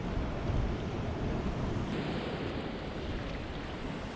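Waves on a shore where crayfish are caught and cooked, a steady loud rush of surf and wind continuing without a break and with no voices.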